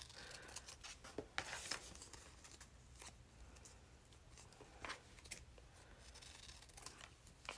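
Scissors cut strips out of paper artwork, a close run of crisp snips and rustles in an irregular rhythm, heard alone and fairly faint.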